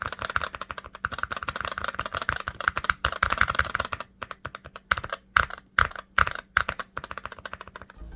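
Haute42 game controller fitted with stock red switches, its buttons pressed in dense, rapid bursts of soft clicking and clacking, close and clear, with short pauses between flurries toward the end.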